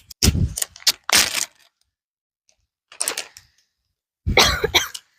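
Several harsh, forceful coughs come in short bursts separated by silent pauses, close and fairly loud.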